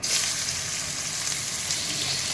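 Onions frying in hot oil with cumin seeds, bay leaf and dried red chilli for a fish-head cabbage curry, a dense, even sizzle close up and continuous throughout.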